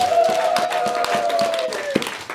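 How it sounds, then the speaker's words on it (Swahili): A church congregation at an Easter conference claps for Jesus, a dense steady patter of many hands over a sustained held tone, with voices mixed in the crowd. "mchapie makofi Yesu"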